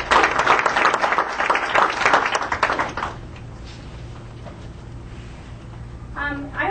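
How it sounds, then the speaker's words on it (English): Lively applause from attendees at a governing board meeting, brisk clapping for about three seconds that then fades into quiet room tone before a voice begins to speak. "let's give them a great round of applause"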